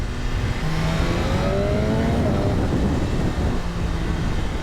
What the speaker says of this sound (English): So third gear, like barely any torque.